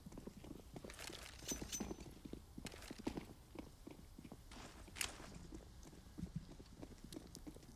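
Rapid overlapping footsteps of several players pushing toward the B bomb site on the Overpass map in CS:GO, quiet and dense clicking steps running continuously with a few sharper hits.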